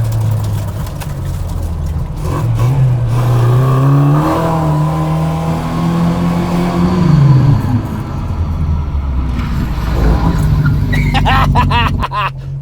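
A classic Mini Cooper built with Lotus supercar inspiration revs hard while driving and fighting for traction, its engine note climbing and falling in loud, close, rising sweeps for the whole run.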